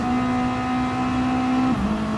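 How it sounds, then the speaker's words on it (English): A race car at full throttle at Spa, its exhaust note a steady, loud, continuous drone that holds one pitch before dipping slightly near the end as the car eases off. "A full exhaust note as they tear down here."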